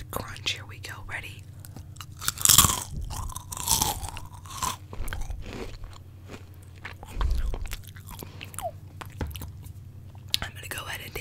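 Close, crisp crunching and chewing of Cheez-It crackers bitten one at a time, in irregular bites with softer mouth sounds between them, alongside quiet whispering.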